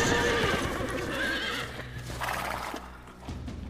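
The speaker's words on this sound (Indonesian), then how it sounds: "Tapi obrolan segera terhenti ketika terdengar suara kuda meringkik dari kejauhan." Horse whinnying in an action thriller film scene, a long shrill neigh rising above the steady clop of hooves and a rumbling background, fairly loud and unaccompanied by speech.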